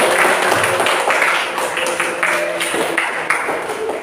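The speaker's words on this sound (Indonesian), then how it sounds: "Kita berikan aplaus terlebih dahulu ke kelompok 3" Classroom audience applauding a presenting student group, a short burst of clapping filling the room at close range, with scattered voices mixed in.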